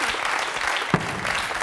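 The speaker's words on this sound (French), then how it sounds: "On peut vous applaudir." Studio audience on a French television talk show bursts into dense, steady applause, close and loud throughout, with one brief sharper thump partway through.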